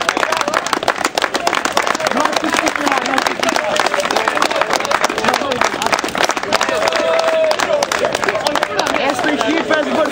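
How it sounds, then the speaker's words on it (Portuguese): Applause from a gathered crowd greets the last mountain-bike orienteering team to arrive in Esposende, steady dense clapping filling the whole stretch at close range, with voices talking over it. "nós vamos dar uma salva de palmas, que acho que eles merecem"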